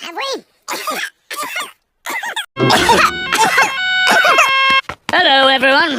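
Several short, harsh coughs come in quick bursts, close and loud, followed by throat-clearing and voiced, sputtering noises.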